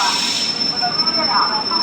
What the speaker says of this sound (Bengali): এইটা হচ্ছে আহমেদাবাদের রেলওয়ে স্টেশন কালুপুর